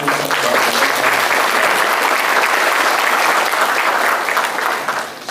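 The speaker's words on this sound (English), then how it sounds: "give a warm round of applause to all the resource persons" A large audience at a one-day conference on learning foreign languages claps steadily and loudly for the resource persons, a dense even wash of applause sustained for about five seconds before tapering slightly at the end.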